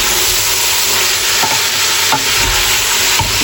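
Chili con carne cooks in a pot over medium-low heat, giving a steady close-up sizzle and bubbling with a few scraping stirs of a spoon, and no voices.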